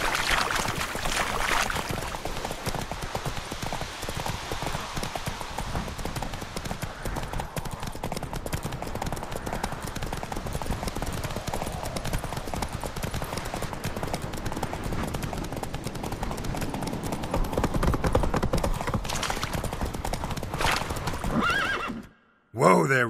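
A horse in The Witcher 3 video game gallops with rapid hoof clip-clops, then neighs and whinnies as it slows, loud and close, with game character voices talking, ending in a brief silence and a final burst.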